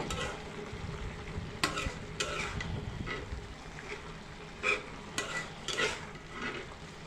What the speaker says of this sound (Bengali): একটু নেড়ে চেড়ে দিতে হবে